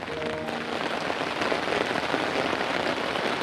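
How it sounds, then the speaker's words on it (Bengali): Heavy rain pouring down steadily, a dense, loud hiss of drops hitting surfaces throughout, with no talking. "ঝুম বৃষ্টি হচ্ছে অনেক জোরে জোরে বৃষ্টি পড়ছে"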